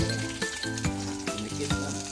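An egg frying in a pan gives a close, crackling sizzle with small popping bursts about every half second, over a faint high tone.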